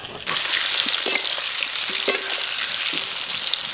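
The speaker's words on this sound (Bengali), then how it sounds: "চাপা খুলে আলুগুলো একবার ভালো করে নেড়ে দেব।" Potatoes sizzling in oil in a pan for a mutton curry, with a steady loud frying hiss starting abruptly after a brief quiet moment, and a few soft clinks of a spatula stirring them.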